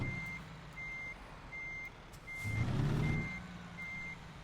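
A truck backing up in American Truck Simulator, its reversing alarm sounding six evenly spaced beeps over a low engine rumble that briefly swells midway.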